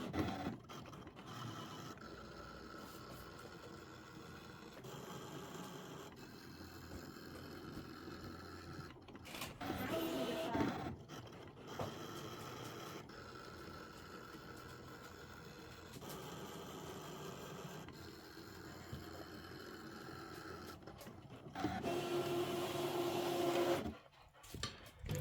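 An embroidery cutting machine runs with its auto blade on a fabric mat, giving a steady mechanical whir and hum with rhythmic motor shifts and brief louder bursts, heard close and alone for about twenty-five seconds.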